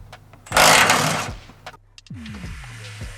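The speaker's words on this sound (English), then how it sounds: "we're just gonna break these 2/17s loose" A hand wrench works 17 mm shackle nuts loose on a Nissan Frontier's rear suspension: a burst of harsh grinding strain, a pause, then a few short creaking, squealing turns with light metallic clicks, close by.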